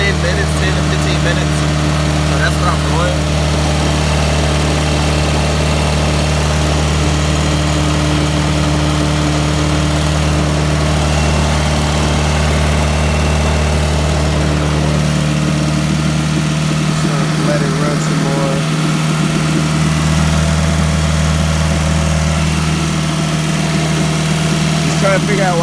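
A Honda Civic engine idles steadily with a deep, even hum after radiator stop leak has been added, running high before the tone drops and settles partway through, with a person talking over it.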